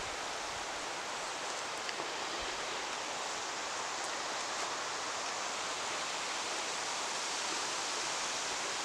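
Steady broadband wind rushes over an outdoor spot at night beside a camping van, a continuous even roar with no breaks and no voices.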